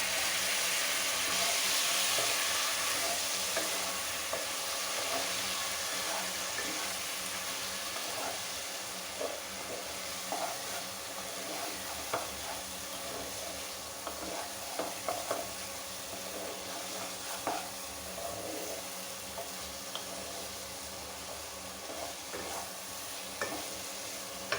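Spice masala for duck egg curry sautéing in a pan with a splash of water, a continuous steady sizzle and hiss with frequent soft scraping stirs and small clicks throughout.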